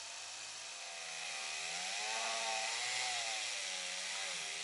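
A Dremel spinning against a plastic gauge lens while polishing, a steady high whine whose pitch wavers and dips as pressure slows the motor, continuous and fairly close with no voices.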